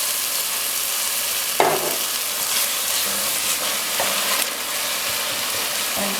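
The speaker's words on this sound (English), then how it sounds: "So I'm just stir frying the sauce, adding a tiny bit of water when needed." Curry sauce stir-fried in a pan after the onions have softened, with a splash of water added now and then: a steady, even sizzle throughout, broken by a few scraping stirs of the spoon.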